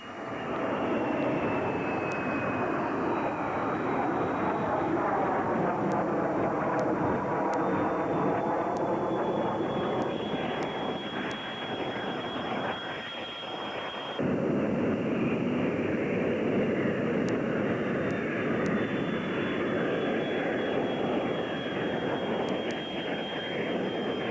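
Single-engine F-16 fighter jet flying, a continuous loud jet roar and high whine that shifts in tone midway as the aircraft passes, with no talking over it.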